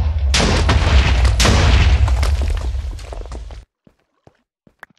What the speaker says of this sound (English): I heard another set of explosions